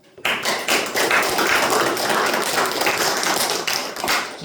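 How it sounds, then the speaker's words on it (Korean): Audience at a Korean happiness humanities seminar lecture breaks into dense, sustained applause, many hands clapping loudly and evenly for several seconds after a brief quiet start. "오늘 강의를 위해서 여러분의 박수를 부탁드립니다"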